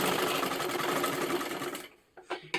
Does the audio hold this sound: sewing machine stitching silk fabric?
yes